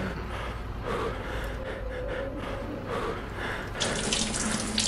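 A water tap runs steadily in the STALKER video game, a continuous splashing stream filling a container, close and moderately loud, with a brighter rush of flow near the end.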